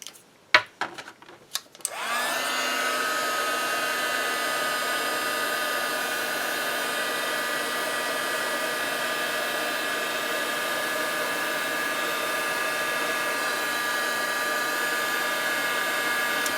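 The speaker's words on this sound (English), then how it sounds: "I want to heat set my powder before I go back with any kind of Versamark pen again." A heat gun melting and setting embossing powder for a craft project switches on after a few handling knocks, then runs as a steady, loud whirring hum with a high whine, unbroken to the end.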